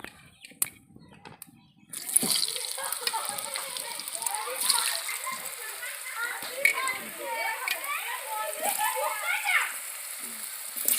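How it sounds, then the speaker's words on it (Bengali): Potato pieces drop into hot oil already seasoned with turmeric and salt, bursting into a loud, steady sizzle and spatter that runs unbroken to the end after a quieter start with a voice. "এবার আলুটাকে এর মধ্যে দিয়ে দেবো।"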